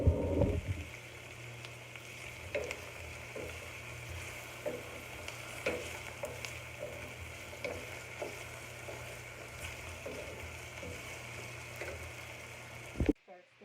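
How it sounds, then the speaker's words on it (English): Potatoes and vegetables sautéing in a pan for stuffed peppers, a soft continuous sizzle under a low steady hum, with faint periodic scrapes of stirring and a louder clatter at the end. "We're going to combine in our vegetables. Just halfway sauteed."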